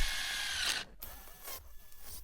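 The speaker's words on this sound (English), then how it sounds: "Drilling out the locking hole" Power drill boring a locking hole through a sheet-metal blank being made into a reciprocating saw blade, a high whirring grind in short bursts with brief pauses, close and without talk.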